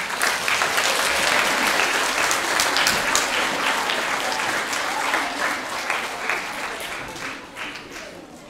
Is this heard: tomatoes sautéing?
no